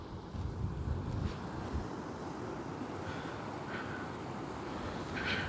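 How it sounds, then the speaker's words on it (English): Wind buffets a taut, guyed-out Nightcat three-person shelter at a solo wild camp in Glen Etive in the Scottish Highlands, a steady rushing roar with some low microphone rumble, continuous and fairly close. "The wind is blowing from the back."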